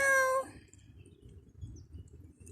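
A cat eating potato chips lets out a single loud meow at the start, then quiet soft chewing and crunching sounds follow close by.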